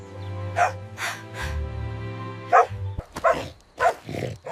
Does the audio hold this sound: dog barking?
yes